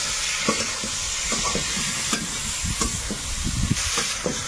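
Eggs frying in a pan of cooked-down spice masala with green chilli and a little water, a steady hiss under scattered scraping stirs and soft knocks, close and moderately loud.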